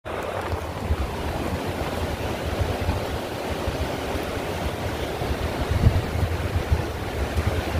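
Sea waves breaking on the shore at Diveagar beach on the Konkan coast, a continuous close roar of surf with gusty wind buffeting the microphone and no voices.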